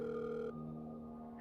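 A telephone rings with a steady electronic tone that cuts off about halfway through, leaving a faint lingering hum; no one speaks.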